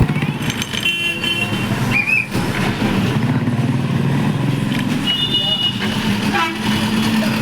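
Road traffic near a bridge at a Srikakulam junction, with a lorry turning across the way: a continuous loud engine rumble, punctuated by several horn toots, with people talking over it.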